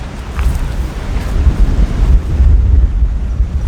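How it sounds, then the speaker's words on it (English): Strong wind buffets the microphone at a forest preserve campsite, producing a loud, continuous low rumble with gusting surges and no speech. "God, is it windy."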